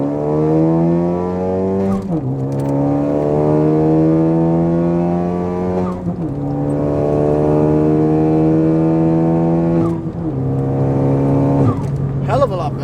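Turbocharged car fitted with a CPE hotside chargepipe accelerating hard through three gears, the loud engine pitch climbing steadily then dropping at each shift, with brief whooshes between pulls.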